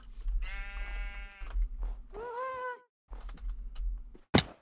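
Minecraft sheep bleat loudly and close, several wavering calls separated by pauses, with a low hum of game ambience underneath.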